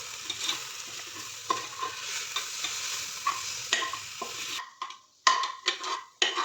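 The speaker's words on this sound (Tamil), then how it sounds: "நெக்ஸ்ட்டு மசாலா ஐட்டம் போட்டுக்கலாம். கலக்கி விட்டுக்கலாம்." Masala stirred into a pot of mutton nalli soup, with a soft simmering hiss and repeated close scraping and clinking strokes of a spoon against the pot, louder and more spaced toward the end.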